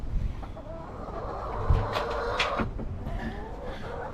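Chickens in a backyard chicken run cluck and squawk in scattered bursts, near and moderately loud, with rustling and handling noises from someone working nearby.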